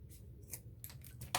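A few quiet snips of scissors cutting off the end of a straw while making boho beads, short crisp clicks heard close up in a hushed setting.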